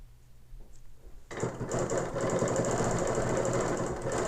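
A sewing machine starts up after a quiet second and then stitches continuously in a fast, steady mechanical whir, sewing straight down on a quilt, close and fairly loud.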